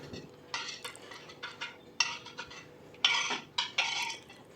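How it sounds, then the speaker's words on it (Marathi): A knife cuts rolled shankarpali dough into pieces, making a series of short scraping strokes with soft taps on the rolling surface, steady and close. "अशा रीतीने मी दुसऱ्या गोळ्याची शंकरपाळी कापून घेते आहे"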